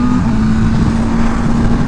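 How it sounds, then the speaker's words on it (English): A BMW M1000R motorcycle engine drones loudly and steadily at close range, a constant engine note heard from the rider's position with wind rush and no speech. "Oh, the audible blipper is so smooth on the BMWs."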